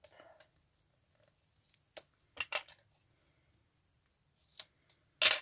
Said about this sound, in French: Alors, une paire de ciseaux qui va bien.